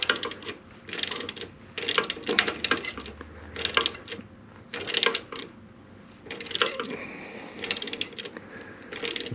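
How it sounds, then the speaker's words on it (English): Ratcheting wrench clicks in repeated bursts as the third and final crash bar bolt is tightened down on a Honda Shadow Phantom motorcycle, close and fairly loud with short pauses between strokes. "it's the third and final bolt. We're going to go ahead and get it tightened down real good."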